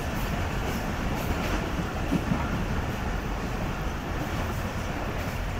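The Karakoram Express rolls along the rails between Lahore and Karachi at cautious speed, a continuous low rumble and wheel noise heard from inside an old coach, steady and moderately loud with no talking.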